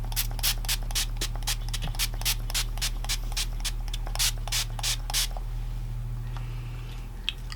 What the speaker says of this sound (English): It's just a dewy setting spray from ABH with pineapples on it.